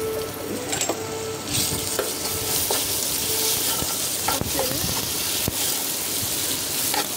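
Ginger garlic paste fries and sizzles in hot oil for a chicken fry biryani, a steady crackling hiss broken by occasional sharp scrapes of a spoon stirring the pan.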